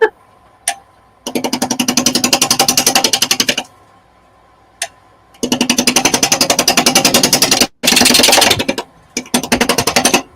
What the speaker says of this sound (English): It's just bouncing off the wood.